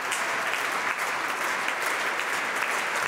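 Loud, dense applause from a concert audience after an opera house program of overture, trumpet concerto and symphony, a continuous close wash of clapping with no pauses.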